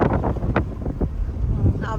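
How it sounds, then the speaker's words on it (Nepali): Cold wind gusting across a microphone on a hillside road between Butwal and Tansen in Nepal, a steady low rumbling buffet that fills the clip, with a faint voice partly audible beneath it. "यताको मौसम चाहिँ शीतल छ, चिसो हावा छ।"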